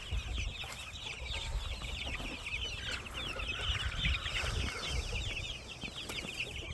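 A flock of purebred chickens on a homestead farm clucks continuously, with many overlapping chatters and calls at moderate distance, steady and busy throughout with no talking.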